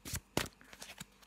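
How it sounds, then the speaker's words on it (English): A textured tarot deck being shuffled by hand, giving a few quick, crisp bursts of riffling card noise close up, with one louder flurry in the middle and softer flicks after it. "I'll have a little shuffle."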